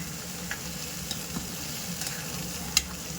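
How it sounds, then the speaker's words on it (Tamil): Goat blood frying in oil for a blood gravy makes a steady, even sizzle at close range, broken by a few light utensil taps and with no voices. "இதை நல்லா நம்ம இந்த ஆயிலே ஃப்ரை பண்ணிக்கலாம்"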